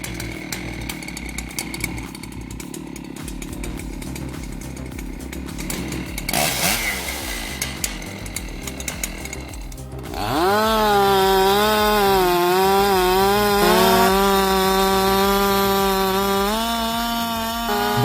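A Stihl MS-661 chainsaw idles and revs, then bites into a 30-inch oak with a loud, sustained rising whine that holds steady through the cut, close and dominant.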